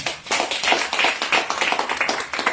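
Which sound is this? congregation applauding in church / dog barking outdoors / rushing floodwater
congregation applauding in church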